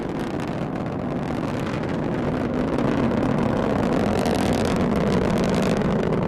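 Strap-on rocket boosters at full thrust, with the core booster throttled to partial thrust, during the Parker Solar Probe launch: a steady, dense roar that rumbles on without a break and swells slightly in the second half.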